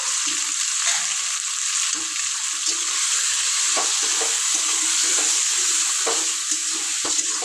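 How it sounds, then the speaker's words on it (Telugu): Chicken curry with salt and turmeric is stirred in a hot pan, a continuous loud sizzle of frying with scraping stir sounds and occasional soft clinks throughout, no voices. "పసుపు వేసేసి ఒకసారి అయితే బాగా కలిపేయాలా"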